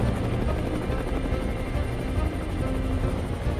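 Constant rotor thrum and engine roar of a helicopter in flight, loud and steady throughout with a deep pulsing low end.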